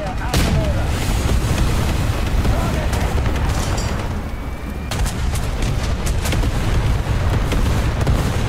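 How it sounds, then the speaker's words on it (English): An artillery strike in the War Thunder tank game, in a German 2A6 tank at battle rating 11.7, produces dense, loud booming blasts and rumble that continue almost without a break, with a voice talking over the barrage. "Artillery strike."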